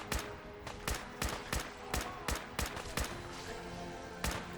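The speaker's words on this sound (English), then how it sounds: "I think I just shot Nick in the head like at least 6 times." A rapid series of roughly a dozen sharp gunshots fires in Fallout 4, evenly spaced cracks at moderate loudness over a low game background.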